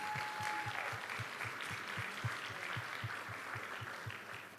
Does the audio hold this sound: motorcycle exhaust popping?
no